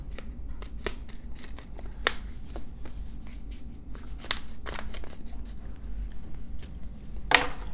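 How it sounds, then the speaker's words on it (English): Scissors cutting down a plastic cup used for measuring calf milk replacer, a series of close crisp snips and crunches at irregular intervals, with a louder cut near the end. "take a pair of scissors, come down there, get that line where that milk replacer is, and cut your cup down to the level of the milk"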